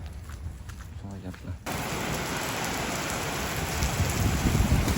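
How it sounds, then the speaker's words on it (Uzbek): Rain falling outdoors at a training camp in Korea, starting with quieter patter under a voice and then swelling to a loud, dense, steady downpour. "yomg'ir sal tinib qoldi."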